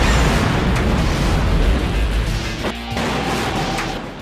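A large film-set explosion from a building demolition gives a loud, sustained, deep roar that rumbles on for several seconds and slowly fades, with no voices over it.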